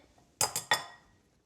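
Spoon stirring a mashed quinoa mixture in a bowl, giving three quick, bright clinks of metal against the dish, close and short with a faint ring after each.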